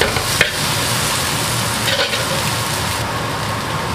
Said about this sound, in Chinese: 翻炒均匀。